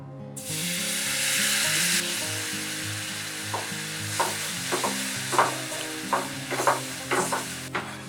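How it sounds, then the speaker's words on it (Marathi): Water hits roasting flour in a hot pan with a loud burst of hissing sizzle that fades after a couple of seconds, followed by repeated scraping stirs. "आता थोडस मी पाणी घालते यामध्ये"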